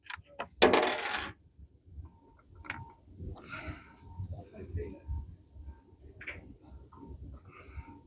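Rifle scope turret on a 6.5 Creedmoor rifle clicking as it is dialed, a loud sharp burst of clicks at the start followed by softer, scattered ticks under low background noise.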